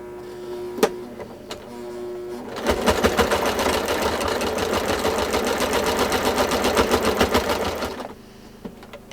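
A sewing machine quilting a baby blanket runs in one sustained burst of rapid, even stitching for several seconds, close and clear, with a few quiet handling clicks before it starts and a brief settle after it stops.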